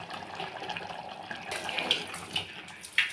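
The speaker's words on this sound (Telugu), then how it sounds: "వాటర్ వేడెక్కాక ఇందులో పోసుకోవాలండి." Hot water poured into a cauliflower curry in a pressure cooker, a soft splashing pour that strengthens midway, with small clinks toward the end.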